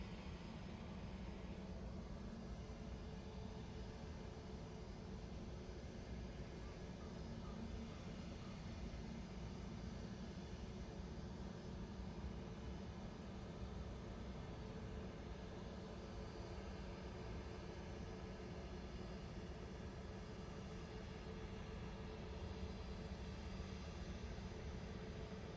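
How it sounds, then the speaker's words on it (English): A Bombardier Challenger 350 business jet arriving at Manchester Airport from Paris, heard far off as a faint, steady broadband roar with no distinct peaks. "So we've got a Bombardier Challenger 350 coming in from Paris now."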